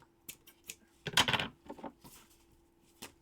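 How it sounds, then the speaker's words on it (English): Scissors cutting thread or yarn during a crafting session: several light snips, then a louder burst of close metallic cutting and rustling, followed by scattered softer clicks, with nobody talking. "I'm just going to cut that"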